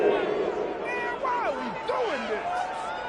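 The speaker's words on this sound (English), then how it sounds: "this crowd does not like that call" A football stadium crowd reacts with a loud, sustained roar of displeasure at a penalty call, with rising and falling whistles and shouts over the steady rumble, and a voice talking above it.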